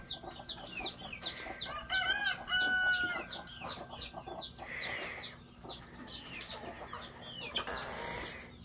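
A mother hen clucks repeatedly while guarding her chick in a farmyard, her calls close and insistent, with a rooster's crow and other fowl chatter mixed in.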